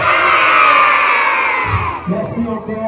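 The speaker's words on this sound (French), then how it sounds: "On va applaudir encore la petite souris" A crowd cheers and shouts loudly at a rap battle, sustained high-pitched cheering and whoops that break into scattered shouts toward the end.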